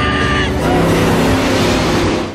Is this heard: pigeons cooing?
no